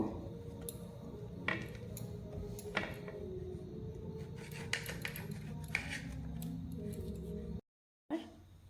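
A knife trims the crust edges off bread slices with soft, irregular cutting and scraping strokes, close but quiet, each stroke marked by a light tap on the board, then a brief silence near the end.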